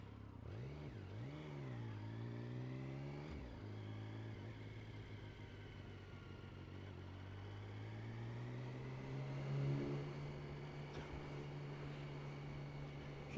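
A motorcycle engine rumbles with a throaty, low exhaust note while riding, rising and falling through gear changes, swelling briefly louder as it passes under a low bridge, with steady road and wind noise throughout.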